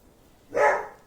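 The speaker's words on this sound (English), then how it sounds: "there goes my doggy" A single dog bark sounds once, fairly close, breaking a quiet indoor room with no speech at that moment.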